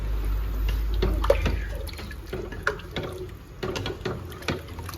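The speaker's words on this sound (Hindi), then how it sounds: "ये इसमें पानी जाएगा, तकरीबन 2 गिलास के करीब मैंने इसमें पानी डाला" Water is poured into a cooking pot for chicken pulao, about two glasses' worth, with splashing and sloshing bursts and irregular pouring surges over several seconds and a low rumble at the start.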